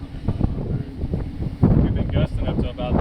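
Strong storm wind gusting outdoors, roaring broadband rumble that surges louder partway through, with a voice speaking over the buffeting noise.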